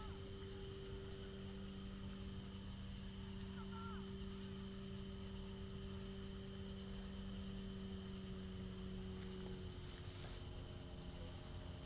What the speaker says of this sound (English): That sounds like a boat, doesn't it?